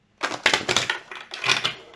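Rapid, crisp papery riffling in two quick bursts of a tarot deck being shuffled close by, with no voices.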